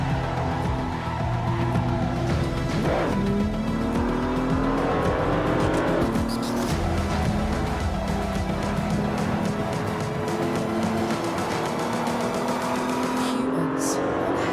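Mazda MX-5 race car in Assetto Corsa, its engine droning steadily and loud with rising and falling gear-shift sweeps and occasional tire squeal, continuous throughout.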